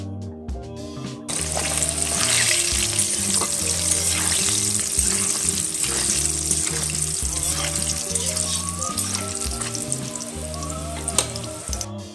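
Pieces of katla fish crackle and sizzle steadily in hot oil for a Bengali kalia, a dense, continuous frying hiss with occasional pops and clinks, close and fairly loud throughout, with no voices.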